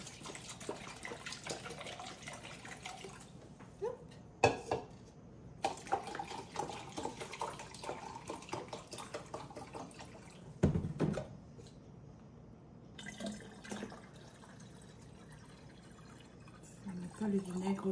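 Water and white household cleaning vinegar poured into a container at home, a steady liquid pour with splashes and a few knocks of bottles, under and between stretches of talk.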